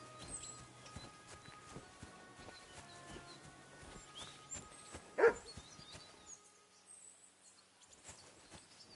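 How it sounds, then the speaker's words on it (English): A dog barks in the video game Kingdom Come Deliverance 2, one sharp bark rising above a busy outdoor bed of hoofbeats and ambient game noise, followed by quieter surroundings. "Barking."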